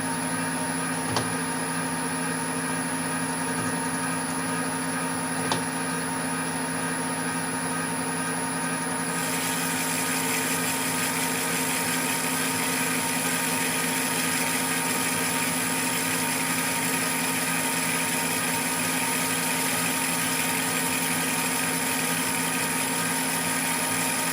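A metal lathe takes a final light cut of about 14 thou on a bronze 5tpi Acme nut blank at 340 RPM with a fine feed, producing a steady, continuous motor hum with no pauses throughout.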